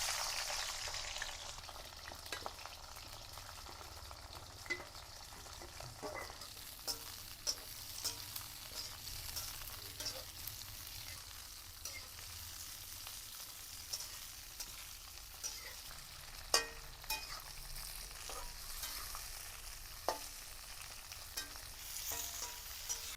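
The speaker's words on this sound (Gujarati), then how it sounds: "આપણે ફુલાવર તરશું।" Cauliflower florets fry in hot oil for a Gujarati cauliflower-potato curry, giving a steady, soft sizzle with faint crackles and a few sharper pops scattered throughout, with no talking.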